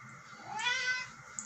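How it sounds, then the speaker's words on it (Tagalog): A single drawn-out meow from a house cat indoors, fairly close and clear over a quiet background. "Yan ang pusa kong pasaway."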